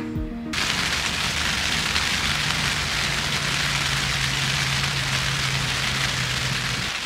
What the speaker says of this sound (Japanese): 雨がかなり降ってきました。